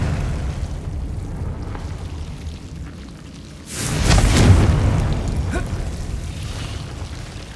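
A Confringo explosive spell in Hogwarts Legacy bursts midway with a loud, rumbling blast that swells and slowly fades into a lingering roar over a steady background hum.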